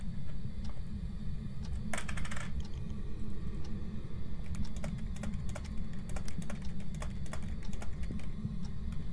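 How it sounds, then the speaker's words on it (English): Rapid, irregular clicks of typing on a computer keyboard, moderately close, over a steady low background hum, with a brief burst of louder clatter early on. "Can you guys hear me typing on this keyboard though?"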